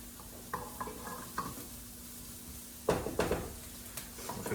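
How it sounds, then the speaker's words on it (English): Butter sizzling in a pan while being stirred, a soft background crackle under intermittent scraping strokes of a utensil against the pan, quiet and close. "I'm just gonna mix this around a little bit so I can make sure that butter is melted everywhere in the pan"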